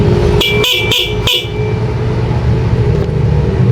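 Four short, loud blasts of an electric horn on an e-bike being adjusted, in quick succession, then a steady mechanical rumble continues underneath.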